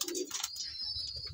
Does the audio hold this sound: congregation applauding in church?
no